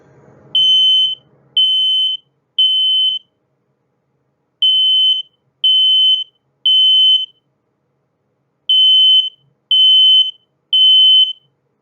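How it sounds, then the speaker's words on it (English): A smoke alarm beeps loudly in three sets of three shrill, evenly spaced tones, with silence between the groups, in a kitchen while cooking a Thanksgiving turkey. "The noise made by a smoke alarm can be kind of annoying, but it's necessary."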